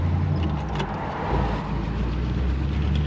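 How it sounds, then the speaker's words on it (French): A car pulls away in third gear. The engine labours with a low, steady drone throughout, heard from inside the car, with no voices. "j'ai encore redémarré en troisième."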